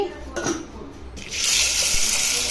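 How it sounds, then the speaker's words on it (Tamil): Water is poured into a vessel of chana dal (split chickpea lentils) set to soak for banana flower vada, a loud gushing splash that starts partway through and keeps running steadily to the end. "தண்ணி ஊற்றி"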